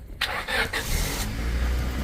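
Car engine cranking and catching after a jump-start from a Motomaster booster pack, a few short starter bursts followed by a steady, close, loud idling rumble.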